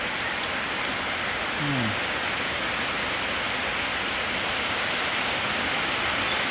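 Steady rain hisses softly and evenly, a fine wash of falling drops with no voices.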